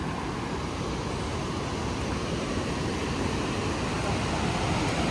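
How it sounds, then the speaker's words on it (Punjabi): A fast, snowmelt-fed mountain stream in Himachal's valleys rushes in a dense, unbroken roar, loud and close throughout, with no pauses or distinct events. "ਪਾਣੀ ਦੀ ਆਵਾਜ਼ ਦੇ ਨਾਲ ਖਾਣਾ"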